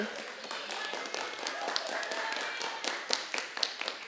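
An audience at a symposium applauds with a dense patter of scattered claps, while a voice talks over it.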